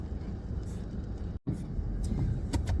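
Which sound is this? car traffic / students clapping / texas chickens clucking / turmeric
car traffic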